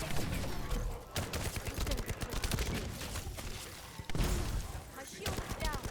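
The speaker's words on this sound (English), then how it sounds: "I love this trace rifle." A trace rifle fires in an action shooter game, laying down a dense, continuous crackle of rapid energy shots mixed with other game effects, with a player's voice talking over it.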